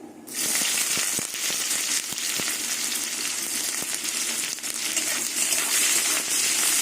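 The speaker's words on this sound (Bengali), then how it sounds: "এবার কুচনো পেঁয়াজ দিয়ে দেবো" Chopped onions drop into hot oil seasoned with dried red chillies and nigella seeds for a soybean and masoor dal dish, giving a loud, sustained sizzle with scattered crackles and pops, close up and without talk.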